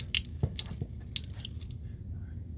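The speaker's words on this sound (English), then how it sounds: "Let's get some of this water out of here, see how it's gonna work here." Water draining through a newly replaced fresh water drain valve on a 2017 20 ft Airstream Flying Cloud trailer, heard as a close wet squishing and dripping trickle with a few soft splashes, alone without talk.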